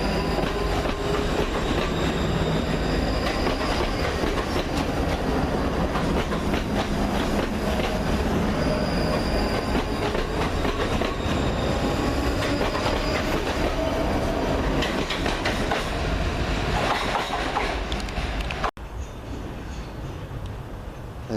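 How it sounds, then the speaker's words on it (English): Train 318259 rumbles into a station with rhythmic wheel clatter and occasional metallic squeals, loud and close, before the noise drops away abruptly near the end. "Sounds like our train coming now."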